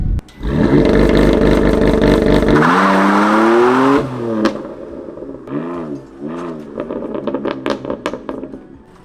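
A BMW M4 launches with its wheels spinning, the loud engine roaring at high revs, then surging through rising and falling revs with tire noise, ending in choppy bursts of throttle.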